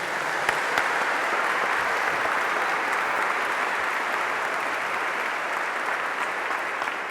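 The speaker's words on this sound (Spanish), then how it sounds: "Dale un aplauso a Jesús y a María fuerte" A church congregation at a religious lesson bursts into loud, steady applause that holds evenly throughout, with a few crisp close claps near the start.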